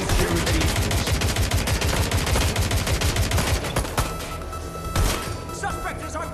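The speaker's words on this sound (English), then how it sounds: "Suspect has opened fire!" Rapid gunfire in the video game Watch Dogs: Legion: dense bursts of automatic shots and impacts crackle loudly for several seconds, easing into sparser shots and crashes toward the end.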